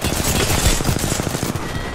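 A mounted gun in Apex Legends firing in a sustained, rapid rattle, loud and close, with steady repeated shots throughout and no speech over it.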